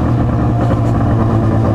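A Yamaha XJ6 motorcycle engine running loud and close, with a steady low throbbing drone and no talk over it.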